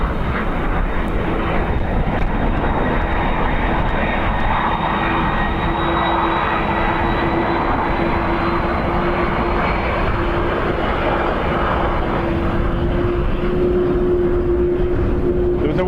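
An SAS airliner lands at Dublin Airport during a storm with strong gusting wind. A loud, continuous engine roar with a steady droning whine is heard throughout, mixed with heavy wind buffeting.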